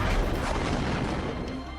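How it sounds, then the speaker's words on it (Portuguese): An explosion in war-torn Aleppo, Syria, a loud booming crash that hits at once and then slowly fades into a rumbling decay. "E a poucos metros tem mais uma explosão."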